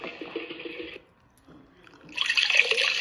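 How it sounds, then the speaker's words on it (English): Running shower water from a children's sound toy or app, a short hissing spray that cuts off briefly and then returns stronger, fairly close and alone without talk. "shower time"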